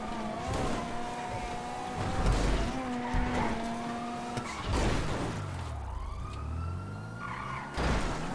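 A police car siren in a racing video game wails with sweeping pitch, mixed with engine roar and tire skids, moderately loud and continuous.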